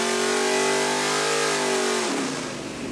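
An iron-headed dirt late model race engine on a dyno, revving loud and close in a rising sweep from about 4,000 to 6,000 rpm, then cutting off into a fading roar.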